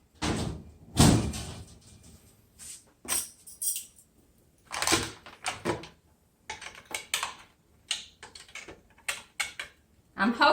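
Kitchen cabinet doors swinging open and shut in a series of close knocks, clacks and soft thuds spread irregularly through the stretch, with a voice talking in places.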